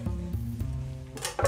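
Mushrooms being tossed in butter in a frying pan for beef stroganoff, a low rumbling sizzle with a couple of metallic pan knocks and a brief scrape near the end.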